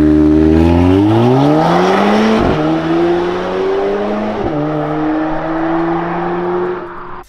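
A 2017 Volvo V60 Polestar with an eight-speed Geartronic automatic accelerates hard, its engine note rising loud and close through two gear shifts, each marked by a brief dip before the revs climb again.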